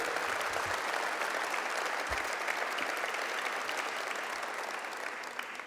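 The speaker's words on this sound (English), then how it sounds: "let's give them a round of applause for coming from around the world." An audience claps in a long, dense round of applause that holds steady and fades slightly toward the end, with no talking over it.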